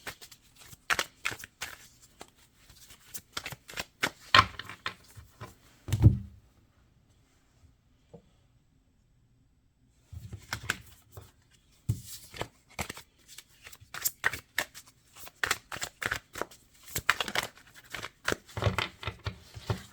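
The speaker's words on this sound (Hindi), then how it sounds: "मैं एक दफ़ा ही शफल करके रख दूंगी" Tarot cards being shuffled by hand, a stream of soft riffling flicks and taps that stops for a quiet stretch partway through and then resumes, close up with no talking.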